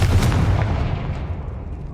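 A Confringo fire spell blasts in Hogwarts Legacy, a single deep booming burst at the start that rumbles and fades away over two seconds.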